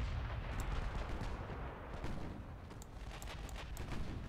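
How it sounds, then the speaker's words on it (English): Naval guns fire in the video game Ultimate Admiral Dreadnoughts, with faint repeated booms and sharp cracks scattered over a rumbling battle background, quiet overall and heard without talk. "It's guns firing"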